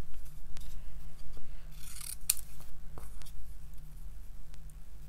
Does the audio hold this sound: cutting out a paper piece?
yes